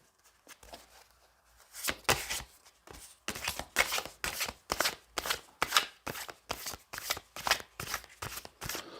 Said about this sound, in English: 8th riffle shuffle, 4th overhand